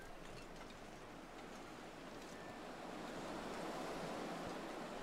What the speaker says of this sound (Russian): Да, ветер усиливается.